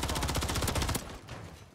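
Rapid automatic gunfire in Call of Duty: Modern Warfare 3 ranked play, a fast regular burst of close, loud shots that stops abruptly partway through, leaving a quieter tail.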